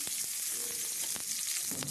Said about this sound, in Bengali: এবার পরিমাণ মতো রান্নার সয়াবিন তেল দিয়ে দিলাম